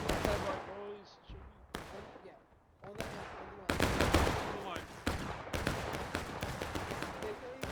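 Infantry gunfire crackles in War of Rights, a large multiplayer battle with musket volleys, scattered single shots both near and far, and deeper booms, with the sustained firing dense and loud and someone talking over it.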